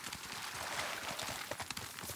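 A horse's hooves clip-clop rapidly in a galloping rhythm across open meadow in the video game Ghost of Tsushima Director's Cut, steady and fairly close amid soft ambient wind.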